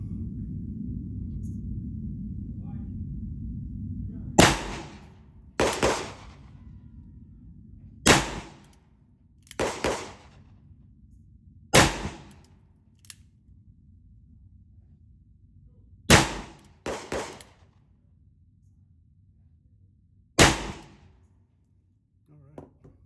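Sharp, loud cracks of 454 wadcutter rounds loaded with 7 grains of Unique, fired singly and in quick pairs at irregular intervals, with a low rumble fading early and quiet between shots.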